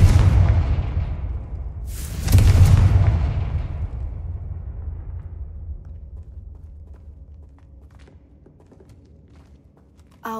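A Confringo blasting spell in Hogwarts Legacy sets off a loud explosion: a rumble is followed by a sharp blast that slowly decays into a fading tail, then quiet ambience with faint small sounds.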